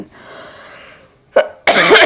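Two short, sharp coughs close to the mic, the second harsher and longer, after a faint murmur of background sound.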